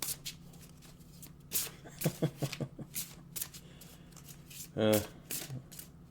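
Oracle cards are shuffled by hand in quick riffling bursts and soft slides, with a louder flurry near the end, heard close and clear against a quiet room.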